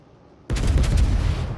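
A heavy main-gun salvo from the battleship Massachusetts in a naval combat game: a sudden loud boom erupts and rolls on as a sustained, dense rumble of artillery fire.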